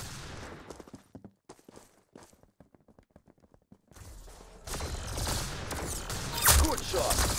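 Gunfire rings out, scattered quieter shots and clicks giving way to a dense, loud barrage of overlapping fire toward the end.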